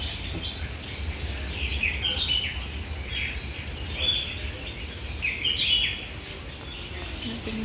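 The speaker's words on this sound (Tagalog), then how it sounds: "Ah, may mga ibon." Small birds chirp and tweet in short bursts among trees in Pagoda Park, Yuen Long, Hong Kong, fairly faint over steady outdoor background noise, with quiet chatter now and then.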